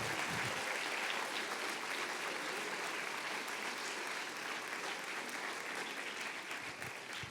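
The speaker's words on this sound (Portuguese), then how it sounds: "se vai aplaudir, aplauda forte" A church congregation applauds loudly and steadily throughout, dense clapping from many hands with no break, fading slightly at the end.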